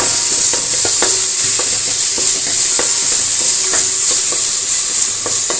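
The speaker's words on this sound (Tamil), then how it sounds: "அடுத்தது தக்காளியும் நம்ம வந்து ஆட் பண்ணி வதக்கிடலாம்" Tomato, onion and green chili sautéing in a pan, a loud continuous sizzle with regular light scrapes and taps of the spatula, close up and with no talking.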